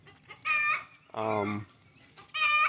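Chickens in a backyard meat pen clucking close by, three separate drawn-out calls with short pauses between them.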